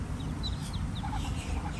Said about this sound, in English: Here's a bunch of baby ducks.